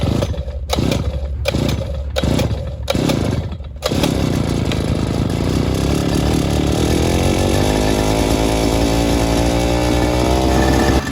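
The small petrol engine of a Demon water pump is cranked several times in short bursts, then catches and roars steadily at high revs, loud and close.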